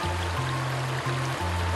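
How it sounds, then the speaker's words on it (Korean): A cool mountain stream in an Austrian forest valley rushes in a continuous, even wash of water with a faint low hum underneath, steady from start to finish. "그래서 제가 시원한 계곡 물소리를 넣어봤습니다"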